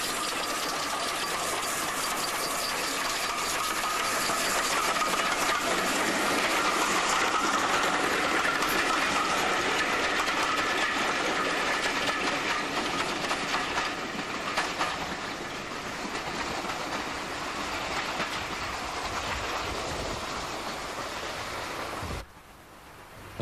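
A GWR steam locomotive, number 2857, hauls three LNER teak coaches past at close range, a steady loud rumble and clatter of engine and wheels that holds evenly before dropping away near the end.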